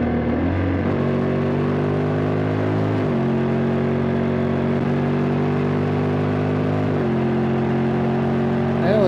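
A Honda X-ADV 750 scooter is ridden with its DCT gearbox shifting on its own, giving a loud, steady engine drone whose pitch steps down at the shifts, heard up close.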